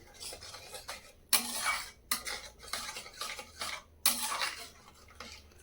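A spoon stirs spices and yogurt in a pan while cooking a temple-style mixed vegetable dish made without onion or garlic, giving close, uneven scraping and clinking strokes in short bursts with brief pauses.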